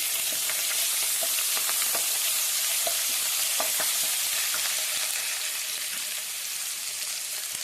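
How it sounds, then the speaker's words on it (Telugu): Onions fry in oil in a pan for prawn biryani, a loud, bright, hissing sizzle with frequent crisp pops and light stirring scrapes, close and unbroken, without speech. "ఇప్పుడు ఉల్లిపాయ వేసాం దోరగా వేగాలండి"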